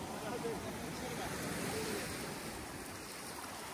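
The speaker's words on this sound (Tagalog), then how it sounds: "Bumabangga din yung alon." Broad rushing water noise of waves washing in continuously on a pink sand beach, steady and fairly close, with a faint murmur of voices in the background.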